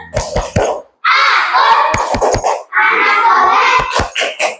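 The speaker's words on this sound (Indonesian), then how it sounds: "Tepuk anak soleh." Classroom of children performing the 'tepuk anak soleh' clapping chant, loud unison chanted phrases broken by crisp groups of hand claps in a quick rhythm.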